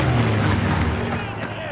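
Heavy, continuous booming rumbles of naval ship cannon fire in Call of Duty: WWII's D-Day mission, dense and loud, with no clear gaps between blasts.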